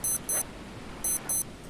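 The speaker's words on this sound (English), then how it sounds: "You're only beeping because you have one health left" Four short electronic beeps in two pairs sound the low-health warning in the survival game Stranded Deep, crisp and clear over quiet ambient game noise.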